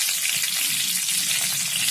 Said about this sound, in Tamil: இது கூட கொஞ்சம் ஒரு கசகசா அதையும் நான் ஆட் பண்ணிக்கிறேன்